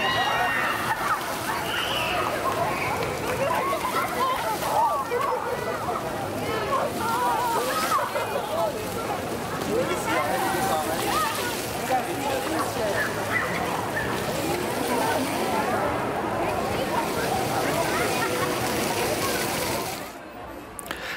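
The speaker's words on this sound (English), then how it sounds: "This water fountain was designed by Wet" A large outdoor water fountain at Universal CityWalk Hollywood, built by the designers of the Bellagio fountain, splashes and sloshes continuously at a steady level. Crowd voices can be heard faintly beneath it.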